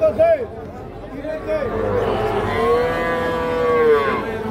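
Cattle, young bulls and heifer calves, moo loudly and repeatedly at close range at a livestock market in Dinajpur, Bangladesh, long drawn-out calls rising over a background of crowd chatter and murmuring voices.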